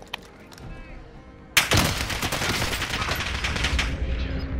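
Gunfire in Call of Duty: Modern Warfare, a sudden loud burst that erupts after quiet game ambience and keeps going as sustained rapid shooting and echoing fire.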